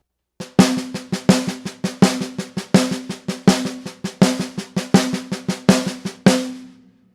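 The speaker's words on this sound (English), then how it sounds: "really get used to accenting that second stroke of the paradiddle" Crisp stick strokes on a practice pad in an even inverted paradiddle, accenting the second stroke of each group, played close and alone before fading out.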